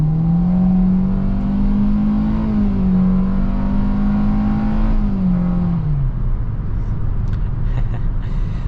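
A 2023 Hyundai Venue's 1.6-liter four-cylinder engine accelerates hard in sport mode from inside the cabin, a loud droning whine rising steadily in pitch, then dropping sharply as it shifts and settles lower.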